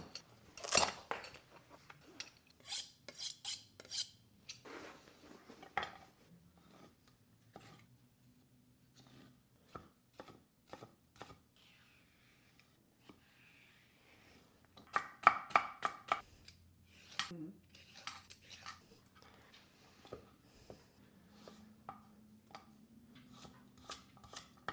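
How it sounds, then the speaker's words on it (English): Fresh vegetables for giardiniera, including jalapeños, serranos and carrot, chopped with a knife on a board in scattered bursts of sharp taps, some quick runs and some pauses, close and fairly quiet with no talking. "First step of getting our giardiniera ready is chopping all the veggies."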